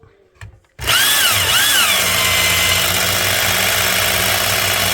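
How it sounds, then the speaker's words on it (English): Belt grinder with a stiff 80-grit belt grinding knife steel, starting abruptly into a loud continuous whir and rasp, with a brief rising-and-falling pitch as the blade meets the belt, then a steady roar. "This is a more aggressive stiff belt, and I think it's a 80 grit."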